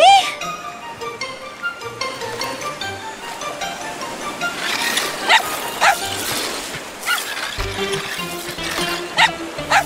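A cartoon dog yips and barks in short repeated bursts over a musical score with bright chiming tones, the barks close and loud in an animated animals-and-trucks show.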